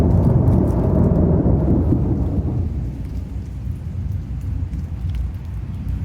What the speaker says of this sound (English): the lightning's getting more frequent and louder